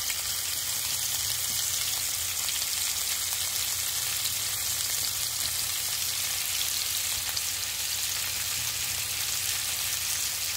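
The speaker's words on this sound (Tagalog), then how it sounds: "lagay na natin yung ating galunggong" Galunggong fish sizzle loudly in a pan with softened tomatoes, a dense, even frying hiss that runs continuously and close throughout.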